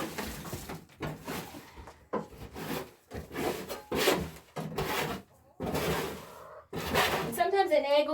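A scraper drags across chicken coop boards in a series of about eight rough, close scraping strokes separated by short pauses, with a faint squeak at the end.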